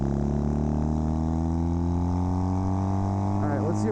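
A Kawasaki KZ400 tracker motorcycle engine pulls steadily while riding, its harmonic drone rising in pitch as it revs up through the gears, loud and close with a brief shift-like change near the end.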